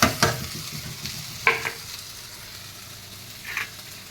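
Taro (arbi) sizzles in a hot pan while a utensil scrapes and clatters against it several times at an irregular pace, close up, with no talking.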